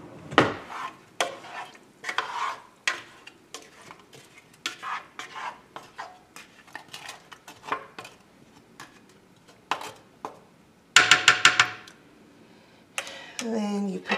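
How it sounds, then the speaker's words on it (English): A spoon stirs peach oatmeal with pecans and vanilla in a Ninja cooking system pot, giving a series of close, irregular scrapes and clinks, with a person talking between strokes and a sharper metallic rattle near the end. "once you get everything in there, you just give it a quick stir"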